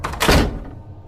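A bathroom door swings shut in a dark house with a single heavy thunk, followed by a short fading resonance. Nobody speaks.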